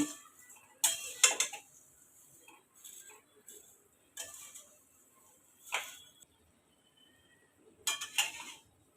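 Vermicelli roasts in a little oil in a pan while a spoon stirs it, giving intermittent metallic clinks and scrapes in short bursts over quiet moments.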